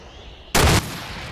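A gunshot in the military video game Arma 2: one loud, close, abrupt blast with a short ringing tail after a quiet lead-in.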